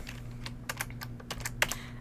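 Computer keyboard typing while writing C++ code for an Unreal Engine 4.9 tutorial: close, irregular bursts of crisp key clicks with short pauses, alone without talk.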